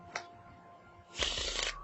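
A deck of playing cards is shuffled by hand during a magic trick, a brief flick followed by a close, crisp riffling burst lasting under a second.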